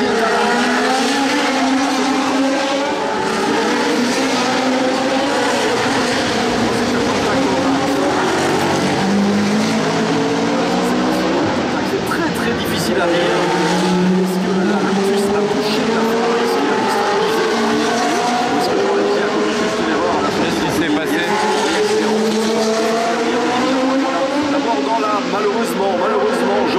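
A historic Ferrari racing car with a damaged front wing, rear wing and front-left wheel howls around the Monaco Historic Grand Prix street circuit, its engine note rising and falling continuously beneath steady commentary.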